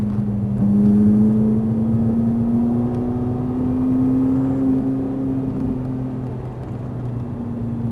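A Ferrari 458 Italia at Fay-de-Bretagne accelerates with a smooth, steady engine drone whose pitch rises gradually over several seconds, heard from close by with no talking.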